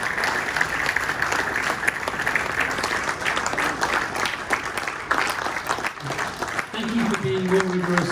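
An awards-ceremony audience applauds continuously for the judges of the Consensus Awards, a dense, even clapping wash throughout, with some faint voices and a tonal sound appearing near the end.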